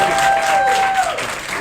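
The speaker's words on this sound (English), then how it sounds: "you'll have all the time in the world to applaud when we're done" A debate audience applauds a mayoral candidate in Niagara Falls, a brief, steady burst of clapping from a seated crowd that tapers slightly toward the end.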